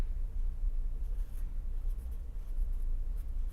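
Chalk scratches faintly on a lecture-hall board as Hooke's law is written, a soft, intermittent tapping and scraping over a low room rumble, with no speech.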